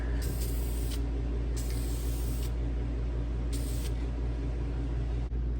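Aerosol spray paint hisses onto BMW E90 reflectors in three separate bursts, each lasting about a second, heard close over a steady low background rumble.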